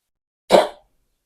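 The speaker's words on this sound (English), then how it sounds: "my dog is coughing" A single short, dry cough-like burst from a Yorkshire terrier, close by, lasting about a third of a second, with silence on either side.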